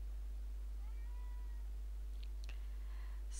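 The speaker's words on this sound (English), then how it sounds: "Excuse my cat coming to say hello." A domestic cat gives a few short meows in a quiet room where an artist is painting an abstract canvas with a palette knife. The meows are soft and close, with a faint click near the end.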